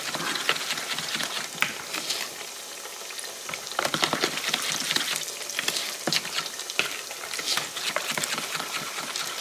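Pork chops frying in a pan, a steady close crackle and spatter of hot oil with busy popping throughout, no talking.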